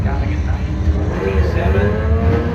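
A 2006 Dodge Charger drag race car in Pro Systems bracket racing at a Mopar event, its engine held at a loud, low rumbling rev with a steady droning tone, close and continuous, with an announcer's voice running over it.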